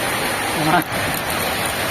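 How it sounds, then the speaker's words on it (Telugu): Heavy rain pours down in a village as a dense, steady wash of noise, with a brief muffled voice under it near the start. "వర్షం అయితే ఘోరం వస్తుంది ఫ్రెండ్స్"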